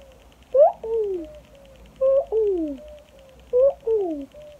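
A two-note cuckoo call, a higher note sliding down to a lower one, repeats three times at an even pace against quiet surroundings.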